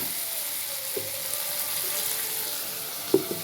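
Onions and tomatoes sautéing in a pan for potato white kuruma, a soft steady sizzle with a couple of faint clinks from stirring, no talk.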